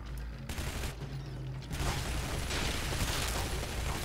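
Gunfire from the video game Shadow Warrior during a run of headshots, rapid clattering shots blended with mechanical rattling and dense noise, loud and continuous after a quieter opening.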